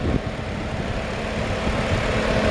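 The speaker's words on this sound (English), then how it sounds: "You can hear the engine runs perfect." A 2007 Hyundai Entourage engine idles under the open hood, giving a soft, steady low hum with faint vibration and no talk over it.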